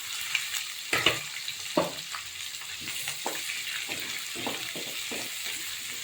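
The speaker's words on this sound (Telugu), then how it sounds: "ఇది కొంచెం గోల్డ్ కలర్ ఫ్రై చేసుకోవాలి." Onions with cumin, green chillies, ginger and garlic sizzle steadily in a pan for a potato capsicum curry, broken by occasional sharp clinks and scrapes of stirring, close and moderately loud.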